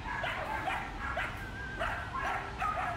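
Several red-and-black Belgian Malinois puppies at a breeding kennel yip and whimper close by. Short high cries repeat in an irregular overlapping rhythm over a low background hum.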